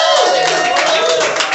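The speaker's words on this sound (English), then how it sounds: "That's a successful amount of clapping for Jake Morris." A comedy club audience applauds a comedian, dense broadband clapping sustained and steady throughout the short stretch, close and fairly loud with crowd murmur mixed in.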